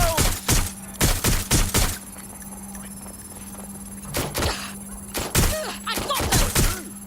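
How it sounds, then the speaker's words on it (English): Gunfire in Watch Dogs: Legion on PS5, coming as several rapid bursts of sharp shots at the start and again near the end, loud and close, with a steady background hum between the volleys. "Shots fired!"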